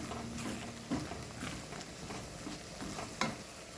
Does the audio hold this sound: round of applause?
no